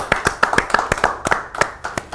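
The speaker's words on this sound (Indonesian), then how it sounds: "Tepuk tangan." Audience hands clapping at a talk event, about a dozen sharp distinct claps in a quick, slightly uneven rhythm, close and fairly loud.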